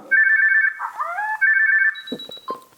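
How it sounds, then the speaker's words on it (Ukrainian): A Canon IXUS 75 digital camera's self-timer: electronic beeps in quick repeated pulses, a pitch-sliding tone, another run of beeps, then a high steady tone and a few clicks, close and clear. "звук таймера,"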